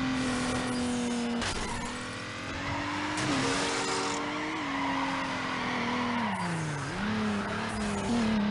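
A Toyota Supra skids in the racing game Need for Speed Underground, with a loud engine whine rising and dropping through gear changes and tires squealing in several bursts, one ending in a crash.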